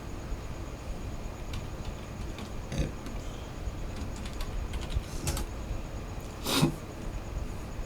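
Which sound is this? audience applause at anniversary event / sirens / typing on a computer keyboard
typing on a computer keyboard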